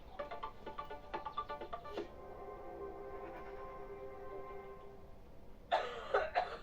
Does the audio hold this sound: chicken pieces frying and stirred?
no